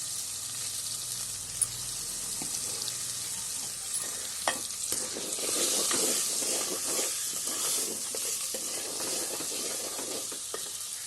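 Thinly cut potatoes fry in oil for a fish curry while salt is added, giving a steady close sizzle and hiss broken by a few scraping stirs and taps.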